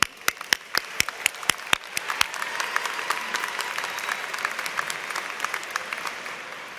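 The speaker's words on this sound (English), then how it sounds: "One more round of applause." At a North Central College commencement, a few sharp, rhythmic claps ring out close by before a large crowd joins in, spreading into broad, sustained applause for the class of 2024.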